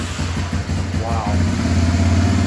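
A Honda 250 Big Red engine, started with the choke on after sitting for two years, runs with a steady low idling chug close by while a voice talks over it.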